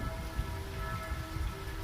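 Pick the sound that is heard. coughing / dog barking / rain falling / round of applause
rain falling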